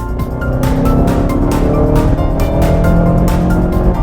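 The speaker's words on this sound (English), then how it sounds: "Engine sounds great." A 2016 Mazda 6 engine roars loudly and steadily, revving with rising drive as the car accelerates, heard close up with no talking.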